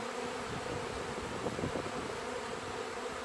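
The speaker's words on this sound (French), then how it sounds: "Les abeilles se posent sur moi." Bees swarming closely around a person and landing on them, a dense continuous buzzing hum that stays steady and loud throughout, with no voices.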